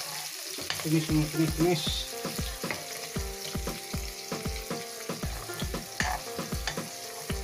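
Ingredients for ikan pekasam sautéed in a pan, a busy frying hiss broken by rhythmic scraping and stirring strokes, close and lively, with a brief spoken word near the start.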